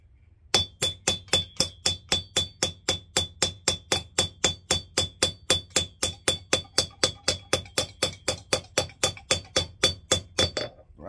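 A hammer beats metal on an anvil in a blacksmith shop, about thirty steady, evenly spaced ringing strikes that are loud and close, with no talk between blows.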